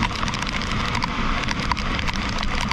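Rain pours onto a roof or covered surface in Quezon, a dense, steady patter of drops close by with scattered louder hits, no one speaking.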